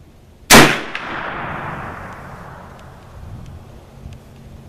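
A single sharp, loud Marlin rifle shot cracks close by, then rings out in a long, fading outdoor echo that rolls away over several seconds, with no talking.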